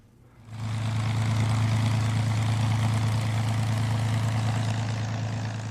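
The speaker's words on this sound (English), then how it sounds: "And it has a sound all of its own. There's no sound for like the P-51." A P-51 Mustang's piston aircraft engine drones steadily with a deep, throaty rumble, rising in quickly at the start and holding loud and even throughout.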